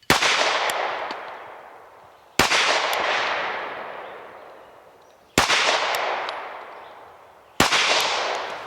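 Four loud pistol shots fired at a target by a shooter using a HEX Wasp red dot sight, each a sharp crack followed by a long ringing decay, spaced roughly two to three seconds apart.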